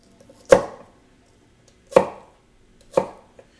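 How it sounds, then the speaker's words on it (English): Granitstone NutriBlades knife slicing through an onion onto a cutting board, three sharp separate chops spaced about a second apart, close and crisp with quiet gaps between. "So then I just take the onion sideways and do more cuts."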